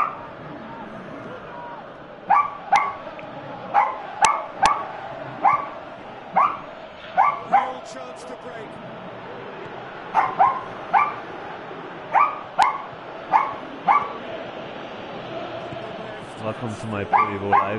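Repeated sharp dog barks sound close to the microphone in short bursts and clusters across the span, with some whimpering near the end and background game audio underneath.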